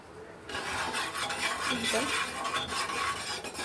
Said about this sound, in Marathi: आता हे आपण छानसे मसाले मिक्स करून घेणार आहोत